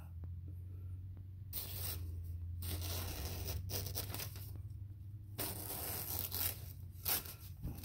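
A stropped Buck Trunk knife blade drawn through material in a cut test, giving close, faint rasping and tearing strokes with short scraping bursts against a steady low hum.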